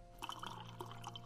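Warm water poured or dripping from a container indoors at home, a short run of soft splashing, trickling drops over a steady low hum, with no voices.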